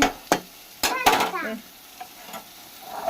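Cabbage with peas and potatoes sizzling in a pan while stirred, with scraping spatula strokes and clattering over a soft frying hiss, and a voice briefly audible.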